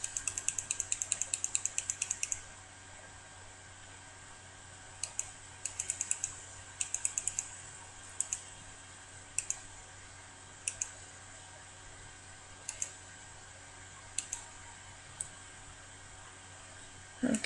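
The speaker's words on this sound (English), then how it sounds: "This one I'll have to click a few more times." Computer mouse clicks nudge objects in photo-tile software, first as a fast run of crisp clicks, then as sparser pairs and singles spread out, close and fairly quiet.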